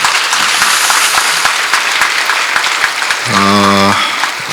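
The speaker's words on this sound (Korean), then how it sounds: "우리 주지스님과 봉은사 대중스님들께 감사의 박수를 보내드립니다." Temple congregation at Bongeunsa gives steady applause of thanks to the head monk and resident monks at a Dharma assembly; dense, sustained clapping fills the hall, with a brief tonal voice or chant rising near the end.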